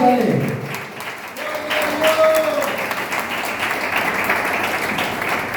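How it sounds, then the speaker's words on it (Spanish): Church congregation applauding during a sermon, a broad steady wash of clapping that continues throughout, with a preacher's voice over it. "Aplauda al Señor si va a aplaudir."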